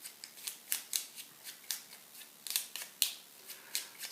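Cardboard tiles from The Cave board game are shuffled by hand, giving a close run of crisp, papery slides and taps at a quick, uneven rhythm.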